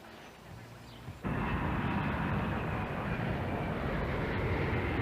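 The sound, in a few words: airplane in flight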